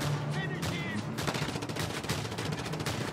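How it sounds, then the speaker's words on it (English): Shotgun fire in the action game Just Cause 2, a run of sharp, loud blasts that starts partway through and continues steadily to the end. "I'll just shotgun him"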